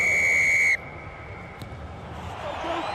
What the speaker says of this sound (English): And Paul Williams blows the whistle